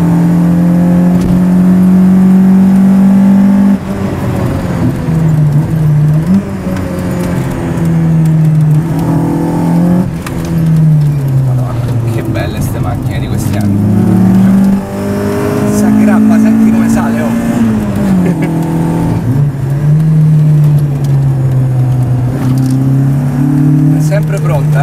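A Volkswagen Golf GTI pulls uphill in Sardinia, its engine revving up and dropping at each gear change from second into third, loud and close from inside the car, with someone talking over it.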